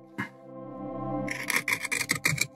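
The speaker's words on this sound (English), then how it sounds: "Gouge, I find using the back here as a slide helps to make a nice smooth cut" Wood carving gouge cutting into a walnut spoon, giving close, rhythmic rasping scrapes in short strokes that quicken after a brief pause, with no talking.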